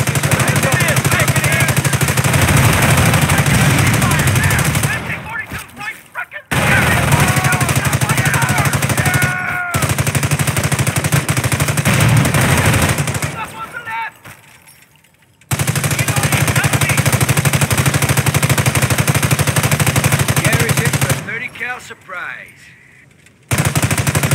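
A .30 cal machine gun firing in Company of Heroes, loud sustained bursts of rapid automatic fire with brief pauses between volleys, battle noise throughout and a voice briefly audible.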